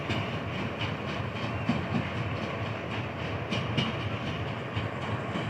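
A DKL coal train rolls through Sanama station, its wagons producing a steady, close rumbling with repeated clickety-clack wheel beats on the rails throughout.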